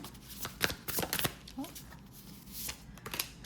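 Tarot cards being shuffled by hand, several quick riffling bursts and soft flicks close up, with a pause in the middle and more shuffling after.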